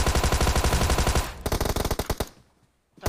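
Rapid automatic gunfire in the mobile battle-royale game PUBG Mobile: a dense, loud burst of shots, then a few slower separate cracks that fade into near silence.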